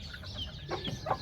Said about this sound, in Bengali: দেশি মুরগি।